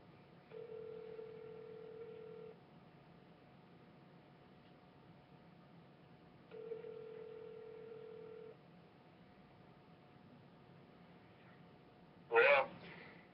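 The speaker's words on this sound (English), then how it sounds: "speakerphone." Telephone dialed on speakerphone: two long steady tone bursts sound clearly a few seconds apart over faint line hiss, followed by a brief sharp click near the end.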